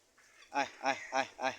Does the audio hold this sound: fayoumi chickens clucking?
yes